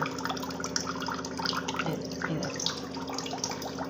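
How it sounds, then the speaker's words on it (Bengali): Thin stream of water trickling slowly from the tap of a household water filter, a steady close splashing and dripping with no talk over it. "এই কলটা থেকে একদম কম জল পড়ছে"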